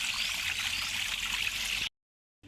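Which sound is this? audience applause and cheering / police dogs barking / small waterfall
small waterfall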